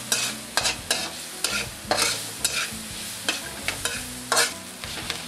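Onion sautéed in annatto oil, stirred briskly with a spatula. Sharp scraping strokes repeat about every half second over a low, steady sizzle, close up and with no speech.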